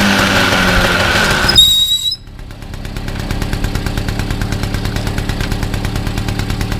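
A Peugeot 103 moped fitted with an Airsal/Polini 70 cc kit fires up after an abrupt shift at about two seconds, then settles into a loud, steady, buzzing two-stroke run with a rapid regular pulse, heard alone.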